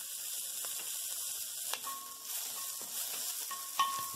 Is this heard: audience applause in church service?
no